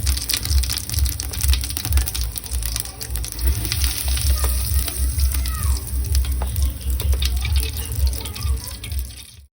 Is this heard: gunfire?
no